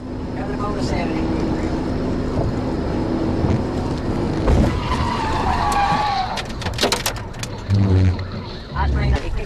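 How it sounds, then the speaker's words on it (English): A fleeing truck spins out after a police PIT maneuver during a high-speed chase, with tire skidding and engine noise heard from a dashcam, steady road roar throughout and a sharper screech midway as radio chatter cuts in. "The pit maneuver caused the suspect's vehicle to spin out"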